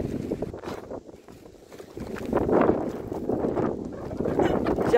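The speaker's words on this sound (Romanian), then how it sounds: "Și afară e vânt" Gusty wind buffets the microphone with rumbling, uneven surges that swell louder midway, mixed with faint outdoor knocks.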